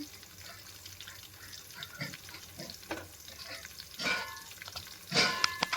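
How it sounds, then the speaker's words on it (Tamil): Chopped onion and garlic fry in oil and are stirred, a faint, uneven sizzle with scattered scraping and louder splashy bursts near the end. "வெட்டி வச்ச வெங்காயம் சேர்த்து எண்ணெயை கூட நல்லா பூண்டு கூட நல்லா கிளறி விட்டுக்கலாம்"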